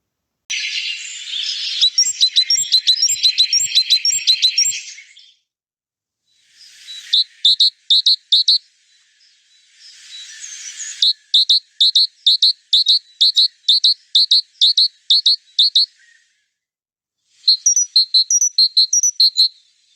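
A tit, a wintering songbird, calls in four bursts of quick, high, bright repeated notes separated by silent gaps, close and clear with no other sounds.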